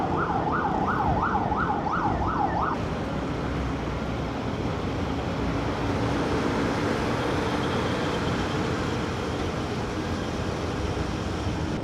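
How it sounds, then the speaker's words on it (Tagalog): An ambulance siren wails in a fast rising-and-falling sweep for the first few seconds on a road in the Mindanao Avenue area, then cuts out, leaving steady loud road traffic and wind rumble. "ambulance."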